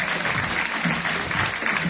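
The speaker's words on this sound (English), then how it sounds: "Can we give them a round of applause to all of our first time platinums?" Steady applause from an audience at a diamond and platinum carnival celebration, dense and loud for the whole stretch, with no break.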